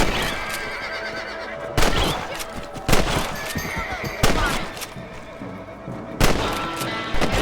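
Rifle shots fired at rabbits in the video game Red Dead Redemption: four sharp, loud cracks spaced a second or two apart over a busy game soundscape with horse whinnies.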